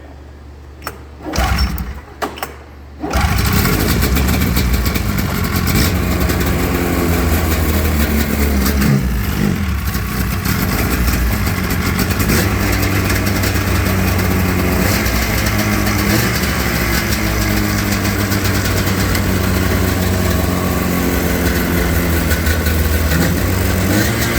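An old snowmobile that sat in a barn for years catches after a pull start; a few brief sputters give way to a steady, loud, buzzing two-stroke idle that runs on continuously.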